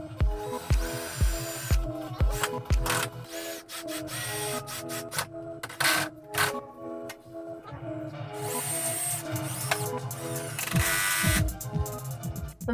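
A power drill drives 4-inch screws into a wooden garden bench frame, with repeated whirring bursts, sharp stops and ratcheting clicks in an uneven working rhythm.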